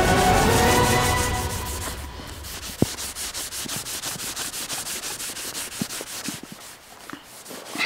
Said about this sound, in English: This is a brand new Scotch-Brite pad again